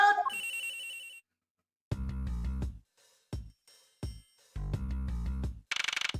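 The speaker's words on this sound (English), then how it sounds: "This has gotta be the victim's cell phone." A cell phone rings in the Ace Attorney Investigations video game, sounding as two bursts of a loud electronic ringtone separated by short pauses, with a brief chime at the start and a bright burst at the end.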